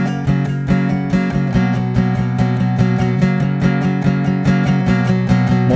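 Strummed guitar plays the full intro of a song, with steady up-and-down strumming of ringing chords, close and loud, with no talking.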